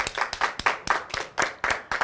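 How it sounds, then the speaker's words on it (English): A small audience at a business talk claps. The clapping comes in quick, uneven bursts of distinct hand claps, fairly close and lively, with no talk over it. "so give them a round of applause too"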